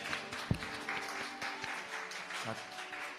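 Scattered applause from a church youth group, moderate and a little distant, with some voices murmuring underneath.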